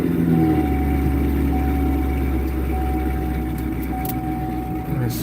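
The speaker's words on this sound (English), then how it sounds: "Get my car set up. Listen to my exhaust." Exhaust of a car at a race track idles in a steady, loud low drone with a faint thin whine running through it, heard up close and without a break.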